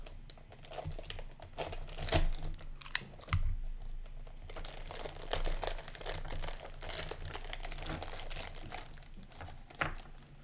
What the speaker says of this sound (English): Let's see if I can actually cut open just the top.